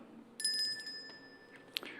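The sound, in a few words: bell rung at committee meeting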